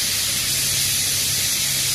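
A pressure cooker cooking dal on a home stove lets out a loud, continuous steam whistle and hiss, steady and close for the whole moment, with no talking over it.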